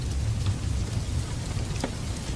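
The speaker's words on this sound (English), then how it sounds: "The rain continued its steady rhythm" Steady rain falls in a dense, even hiss with a low rumbling underlayer, continuous and fairly loud, with a couple of brief drip accents and no voices.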